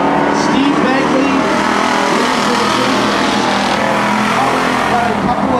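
Street stock race cars roar around Cottage Grove Speedway in a two-car battle, engines loud and sustained with revving swells, while an announcer talks over them.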